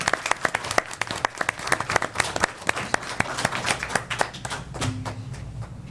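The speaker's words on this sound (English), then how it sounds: "Y'all can clap. Go ahead and clap it." Crowd clapping at a city council meeting, a steady run of sharp, fairly close hand claps from a modest group that thins toward the end, with a faint voice starting up near the close.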